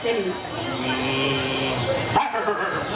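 A stage actor at a village temple festival drama imitates a barking dog with his voice, giving yipping, whimpering dog-like calls over a noisy outdoor background with talk around it.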